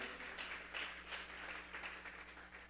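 A church congregation claps together in a steady, dense wash of applause that holds at an even level throughout, with no voices rising above it.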